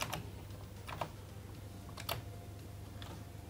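Keys tapped on a Commodore C64 keyboard, a few light, separate clicks spaced about a second apart over a steady low hum, with no voices.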